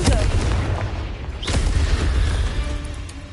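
In a Harry Potter video game, a Confringo blasting spell sets off a sharp explosive crack inside a cave, followed by a rumbling boom. It sounds fairly close against a constant low roar.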